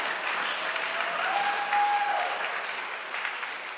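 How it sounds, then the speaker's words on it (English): Audience applause at a synagogue gala honoring newly ordained rabbis: steady, fairly even clapping from a crowd heard at moderate distance, with a faint tonal note rising briefly within the noise. "Give them applause."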